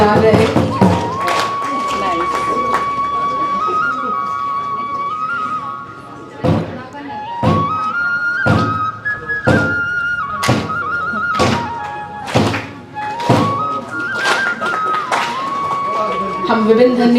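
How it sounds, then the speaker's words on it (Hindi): Nagada kettle drums played at an inauguration session: sharp, loud drum strokes land in uneven bursts, with a sustained tonal instrument weaving melodic lines in between. "बहुत बहुत स्वागत है इस नगाड़े का और इन विभिन्न नगाड़े की धुनों का बहुत स्वागत है"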